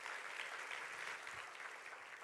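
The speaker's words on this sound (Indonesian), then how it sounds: "Berikan tepuk tangan yuk buat Tuhan Yesus." A church congregation claps together in a sustained, even wash of applause that tapers slightly toward the end, heard from a moderate distance.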